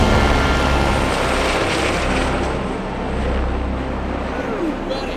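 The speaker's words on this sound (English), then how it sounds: "here comes the helicopter." Helicopter flying over the Grand Canyon, a loud, steady rotor and engine roar close by that dips slightly midway and then swells again, with no talk over it.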